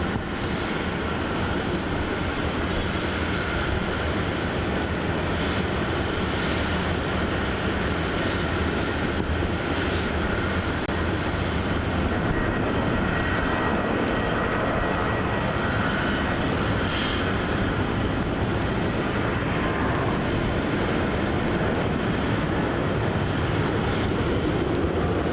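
A Virgin Australia airliner, flight VA823 bound for Sydney, takes off at Melbourne Airport with a loud, sustained jet engine roar that holds steady and broad throughout, heard from nearby without talk.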